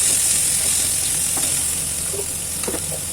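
Chopped vegetables sauté in a pan, producing a loud, close, steady sizzling hiss with light stirring sounds.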